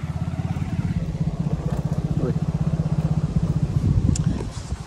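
A motorbike ridden along a village road in rural Nepal, its engine thrumming with a steady low pulsing drone close to the microphone throughout.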